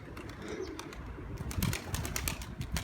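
Ankara tumbler pigeon chicks, Turkish show pigeons, give soft low coos and wing flutters amid steady outdoor background noise, with brief sharp taps and rustles spread across the moment.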